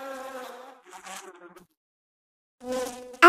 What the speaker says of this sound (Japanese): そして大量のハエ。